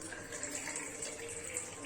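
Water is poured from a glass into a pan for tea, a faint, brief splashing gush heard at close range with no talk over it.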